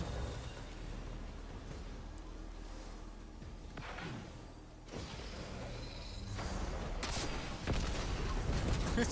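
Gunfire in the first-person shooter Destiny 2, scattered shots and mechanical weapon sounds at moderate level, growing denser and louder toward the end.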